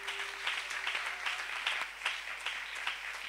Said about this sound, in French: Et nous acclamons très fort la parole du Seigneur